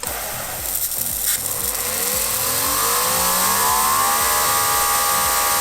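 A Greenworks GPW2300 electric pressure washer, a 2300 PSI unit, runs continuously and loud, with a rhythmic pulsing motor hum and a rising whine as it comes up to speed after a delayed start.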